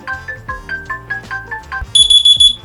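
An ROG Phone alarm tone plays loud and close from the handset, a rapid series of repeating electronic tones that shifts into a higher, shrill beeping toward the end, with no talk.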